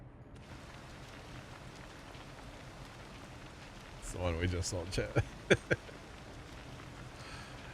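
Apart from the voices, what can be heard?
rain in the video game Farming Simulator 25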